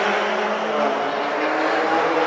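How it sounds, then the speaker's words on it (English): A Bugatti supercar drives past on the Donington Park circuit during a British GT race weekend, its engine a loud, steady roar that holds for the whole stretch with no talk over it. "That was the Bugatti."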